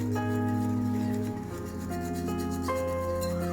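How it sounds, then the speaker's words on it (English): An electric mixer creams a butter base for cookie dough cake, giving off a close, continuous motor whine whose pitch shifts slightly as the beaters work through the mixture. No one speaks. "Once this comes together, I'll be creaming this for another minute."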